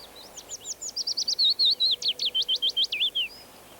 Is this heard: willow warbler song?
yes